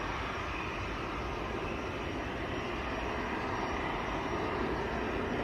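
An Avro Anson aircraft's engines drone at Leeds Bradford Airport, a steady broadband roar that holds evenly throughout with no talk over it.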